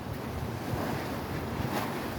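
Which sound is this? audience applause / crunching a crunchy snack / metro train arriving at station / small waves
small waves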